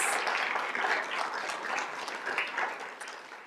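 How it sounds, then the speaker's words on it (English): A school board meeting audience gives a round of applause for teachers, a dense, steady wash of many hands clapping at moderate loudness that tapers off slightly toward the end, with no clear talking. "join me in one more big round of applause for these incredible teachers"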